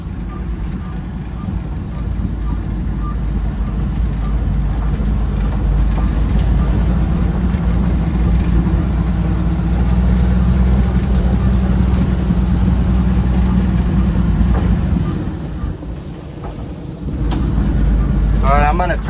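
A steady, loud engine rumble of a Ford Falcon car driving, with a fresh fuel pump installed, holding a constant drone throughout and dipping briefly near the end.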